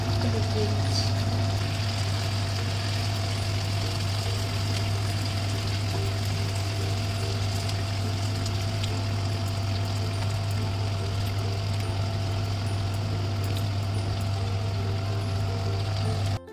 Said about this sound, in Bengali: চিকেনটা দেওয়ার পর আরও বেশ কিছুটা গরম জল দিয়ে দিচ্ছি